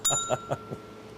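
A small bell rung quickly several times in a row, giving bright, short dings that fade over about a second, fairly close and alone.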